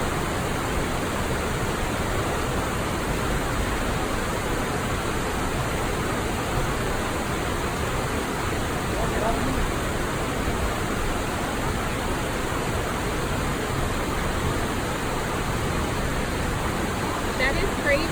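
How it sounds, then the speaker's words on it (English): Water pours down the falls of the Periodic Spring at Afton, Wyoming, a continuous, dense, close rushing roar with no breaks, steady throughout. "there is still water coming down the falls"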